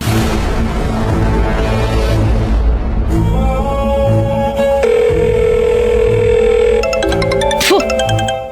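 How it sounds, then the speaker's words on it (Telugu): An electronic telephone tone sounds loudly and steadily, followed by a bright ringing burst near the end, over a background of music-like hum. "మనమ్మగారు ఫోన్ చేశారు."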